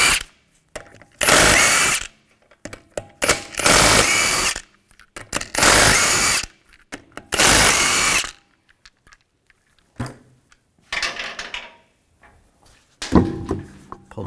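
An impact tool with a 22 millimeter socket removes the rear wheel lug nuts on a Jeep Grand Cherokee in a series of loud, close bursts of whirring and rattling separated by short pauses, with quieter clanks near the end.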